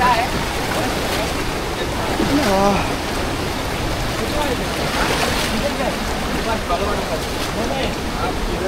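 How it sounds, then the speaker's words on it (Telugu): Loud, constant roar of rushing water close by at Kalu waterfall, Malshej Ghat, Maharashtra, with voices faintly mixed into the torrent. "ఫోర్స్గా వస్తున్నాయి మరి నీళ్ళు"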